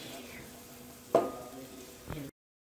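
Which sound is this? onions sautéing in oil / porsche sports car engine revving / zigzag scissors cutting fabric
onions sautéing in oil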